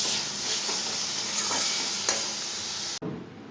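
Paneer frying in a pan gives a steady, close sizzle with a few stirring scrapes, then cuts off abruptly near the end, leaving a softer, lower hiss.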